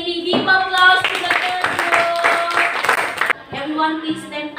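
Students in a classroom clap for a group, a steady run of hand claps for about two seconds, mixed with voices talking over it.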